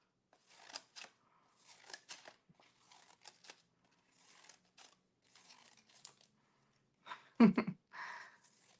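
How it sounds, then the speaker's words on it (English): Fringe scissors snipping around paper circles, a series of short crisp cuts in small bursts with pauses between, close and quiet, ending in a louder rustle of handled paper. "Now I'm taking my fringed scissors and I'm going to go around"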